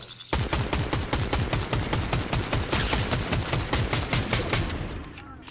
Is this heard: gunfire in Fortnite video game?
yes